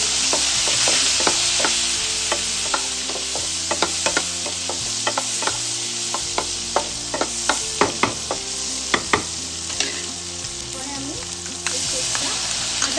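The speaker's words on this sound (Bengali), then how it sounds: "তার আগে আমি তেলটার উপরে প্রথমে টমেটো দেবো" Tomatoes dropped into hot oil in a pan, sizzling loudly and steadily under a rapid series of sharp scraping stirs and spatula knocks.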